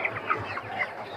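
Chickens clucking at a poultry stall in a Bangladeshi market, several birds giving short repeated clucks close by over a low background hum, with no talk.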